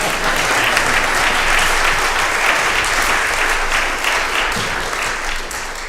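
A congregation at a live worship service breaks into sustained applause, a dense, even wash of clapping that holds loud for several seconds before easing slightly at the end.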